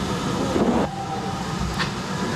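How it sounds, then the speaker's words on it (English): The steam locomotive Raveningham Hall pulls away with a heritage passenger train on the Kidderminster to Bridgnorth line. A steady rumble of rolling stock and wheels is heard at moderate distance, with a brief hiss near the end. "Raveningham Hall departs with the 10:50 a.m. Kidderminster to Bridgnorth service."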